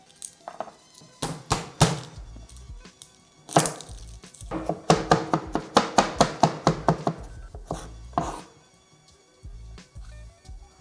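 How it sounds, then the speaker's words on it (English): Knife chopping garlic cloves on a cutting board: fast bursts of sharp rhythmic knocks, close and loud, with brief pauses between runs, no talking. "I also want to prep a head of garlic"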